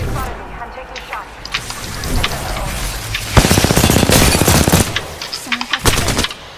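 Rapid gunfire in the video game Apex Legends, loud bursts of automatic shots layered over game sounds and in-game voice callouts, with a dense sustained volley in the middle and more shots toward the end.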